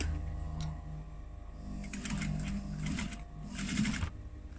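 A sewing machine stitches fabric along a fold line while making a clutch wallet, running in two short mechanical bursts near the end over a quiet, steady room hum.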